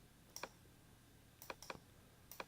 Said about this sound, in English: hold down option and click and drag.